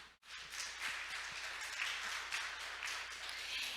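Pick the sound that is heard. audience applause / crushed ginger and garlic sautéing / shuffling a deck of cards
audience applause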